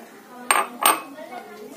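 A big mixing bowl set down and handled on a kitchen counter as sifted maida goes in, two distinct close clunks followed by a fainter rattle.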